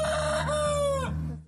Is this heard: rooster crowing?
yes